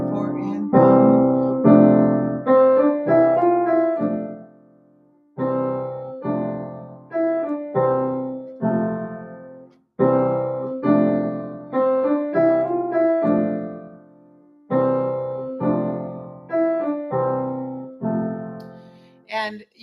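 A piano plays a rhythmic chord pattern that moves around the circle of fifths. Short, evenly spaced chord groups are struck clearly and close, with brief pauses between phrases.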